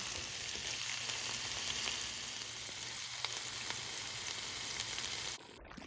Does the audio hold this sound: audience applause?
no